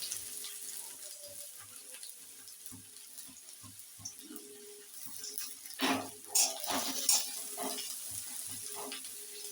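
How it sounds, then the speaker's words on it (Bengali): Onions frying in a pan of mustard oil during a Bengali mashed-potato recipe, a steady soft sizzle with scattered clinks and stirring scrapes, a few louder bursts near the end. "এবার কিছু পেঁয়াজ ভেজে নেব"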